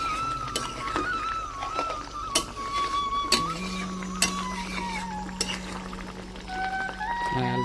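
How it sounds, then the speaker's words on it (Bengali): A curry of rohu fish and kohlrabi bubbles in a pot while a spoon stirs it, with periodic sharp clinks and scrapes against the metal over a steady simmering hiss, close and moderately loud. "আর এই দেখো টকবক করে ফুটছে। আমি ওটা নেড়ে ছেড়ে দেবো।"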